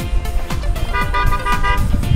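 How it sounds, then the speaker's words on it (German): A car horn honks repeatedly on a Texas Beefmaster beef cattle ranch to call the herd, loud and close, with an engine running underneath. "Um die Tiere zu ihm ranzulocken, hupt er halt ein paar Mal und wartet ab, was passiert."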